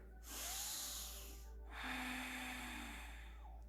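Deep yogic breathing during a morning yoga session, with a long, close airy inhale followed after a brief pause by a second long breath, soft and alone.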